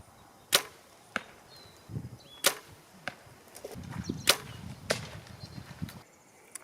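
Arrows loosed during summer archery practice for Colorado elk season, including one shot that strikes the nock of an arrow already in the target. Several sharp, separate thwacks and impacts ring out at irregular intervals over quiet outdoor background.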